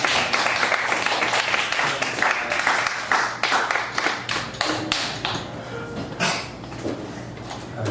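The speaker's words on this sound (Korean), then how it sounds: "우리 다시 한번 큰 박수로" A church congregation claps together in a sustained round of applause, dense overlapping hand claps at steady volume throughout, with a faint hum underneath.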